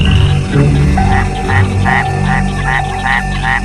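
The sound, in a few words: Mexican white-lipped frog chirping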